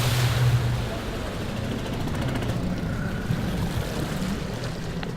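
Broadband wash of water against a boat hull, steady and fairly loud throughout with no distinct splashes standing out, a low rumble underneath and no voices.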